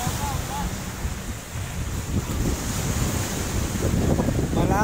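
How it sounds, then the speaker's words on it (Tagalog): Surf breaking on a beach at La Playa in Tanza, Cavite, with murky water, a steady wash of waves under strong wind buffeting the microphone, growing louder toward the end. "Ayan, dagat."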